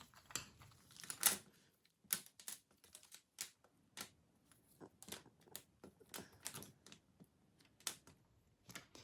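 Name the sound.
wooden popsicle sticks being shuffled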